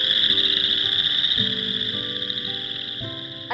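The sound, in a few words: frog calling in a wetland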